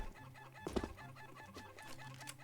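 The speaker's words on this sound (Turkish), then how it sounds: "Aa, uçan tavuk." Clucking chicken calls in CS:GO, a short burst of squawks in the middle over busy background game noise.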